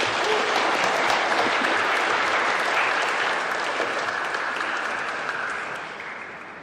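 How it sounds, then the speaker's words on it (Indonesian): A church congregation applauds during a Christ the King feast-day Mass, a steady, dense roar of clapping that fills the room and slowly tapers off toward the end. "Mari kita berikan tepuk tangan untuk kita semuanya"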